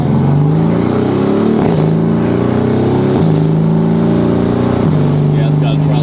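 A straight-piped Ferrari F50 hypercar engine growls and revs in close, loud, rising pulls, each climb dropping back with a brief throttle tip-out before surging again, while people talk over it.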